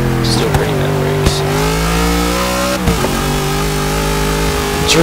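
A Cadillac limousine drifting in the racing game Forza 6, its engine holding a loud sustained drone with shifting pitch while tires squeal in brief bursts through the slide.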